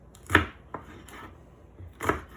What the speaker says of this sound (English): cut them up into nice little bite-sized pieces